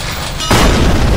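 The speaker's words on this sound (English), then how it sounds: "Did the turret break? Seriously? Mikey, it overheated and exploded!" A turret overheats and explodes in Minecraft. A short lead-in gives way to a sudden, loud, booming blast that rumbles on to the end.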